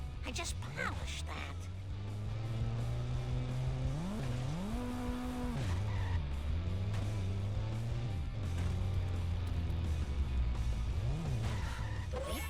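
Cartoon cars race in The Simpsons Hit and Run video game, engines revving and shifting pitch up and down with tire squeals, steady and close, while a character's voice talks over the action.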